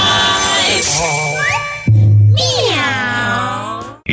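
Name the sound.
cat meow in a radio station jingle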